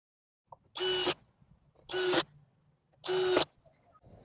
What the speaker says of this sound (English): I'm going to secure it with the same shorter screws that I've been using the whole time